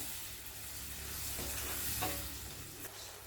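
Soft continuous bubbling and sizzling of tamarind water boiling in a pan on the heat, with a few light scrapes of stirring, fairly quiet and close.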